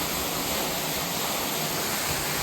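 Water from a farm solar pump pipe gushes out under pressure, making a dense, steady, close roar of rushing water that fills the whole short stretch without any voices.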